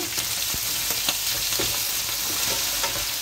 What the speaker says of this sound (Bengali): মাংসটা আমি তেলে বাজিয়ে নেব